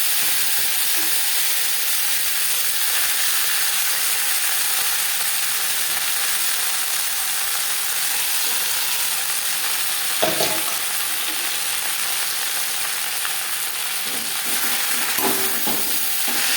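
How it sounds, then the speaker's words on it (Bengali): Drumstick leaves stir-fried with whole cumin in a pan hiss in a steady loud sizzle, with occasional scrapes and clatters of a spatula stirring, close by and without voices. "ফোড়নের সাথে সজনে পাতা বেশ ভালো করে মিক্স করবে"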